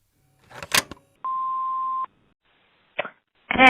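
An answering machine gives a single steady electronic beep lasting under a second, clear and isolated, with a few soft clicks and handling noises around it.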